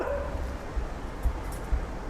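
A dog gives short barks and yips mixed with whimpers, a few distinct bursts close by over a steady background rumble.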